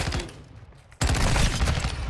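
Sustained gunfire from Call of Duty Modern Warfare 2 in a 6v6 Shipment match, bursting in loudly about halfway through and continuing densely to the end after a quieter stretch.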